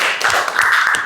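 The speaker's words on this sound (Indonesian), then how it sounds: "tepuk tangan teman-teman" Brief clapping from a small group at the end of a university lecture on innovation and technology management, a short burst of hand claps in a room.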